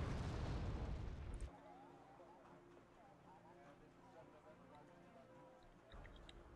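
A bomb blast in the strategy video game Wargame Red Dragon opens with a loud, heavy rumbling boom that fades into quieter battle ambience with faint distant pops.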